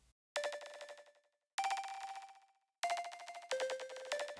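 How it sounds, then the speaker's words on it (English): Synth lead in Reason playing four separate bell-like notes, each sustaining and decaying with a ducked echo delay swelling after the note ends, clean and fairly quiet with no voices. "So what this does is creates a delay unit that kind of swells after the sound ends."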